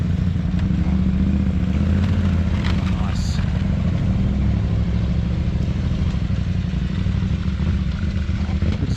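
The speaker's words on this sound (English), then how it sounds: "that 890 motor sounds good, doesn't it?" An 890 motorcycle engine rumbles steadily on an off-road trail, loud and close, with a brief clatter partway through.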